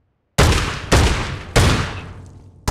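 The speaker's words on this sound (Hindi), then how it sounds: "अब बंद है, अब गोली मारो।" Three loud, close gunshots in the mobile battle game BGMI, evenly spaced, each with a booming decaying tail, then the start of a fourth at the end.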